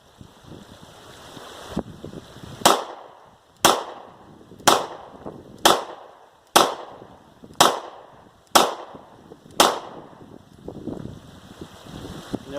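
Seven sharp pistol shots from a Glock 43 fitted with a magazine extension, fired outdoors at an even pace about one second apart, each crack loud and close with a short ringing decay over light wind noise.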